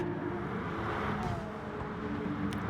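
Porsche race car engine in Gran Turismo Sport on PS5, a Porsche Cup race at Lago Maggiore, droning steadily at a fairly low level with a slight rise and fall in pitch.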